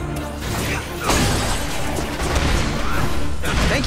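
Glass smashing as a security mainframe is wrecked in the video game Spider-Man: Edge of Time, a dense crash followed by sustained crunching and clattering debris, loud and close against a busy game mix.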